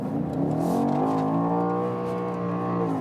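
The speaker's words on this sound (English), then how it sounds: "so when I accelerate it out" A BMW M SUV accelerates out of a corner on a track, its engine note rising steadily and loud inside the cabin, with no talking over it.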